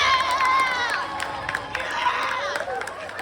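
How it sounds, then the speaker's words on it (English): A school prom audience at a comedy hypnosis show bursts into loud cheering and yelling, a dense crowd roar that holds strong for a few seconds. "Audience, on the count of 3, give them a big cheer."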